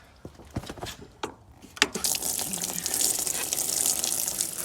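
Water poured into horse feed buckets, starting with a few scattered knocks and clunks, then a loud, steady gushing splash of water filling a bucket that carries on to the end.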